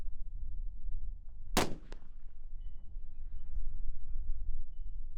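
A long-range rifle fires at a distant target during an extreme-distance shooting competition: one sharp, loud crack with a quick follow-up report, over steady outdoor background noise.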